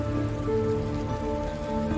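Rain falls steadily on surfaces in a scene from the Indonesian film Yuni, a dense, even patter that holds without a break, with a faint sustained tonal background.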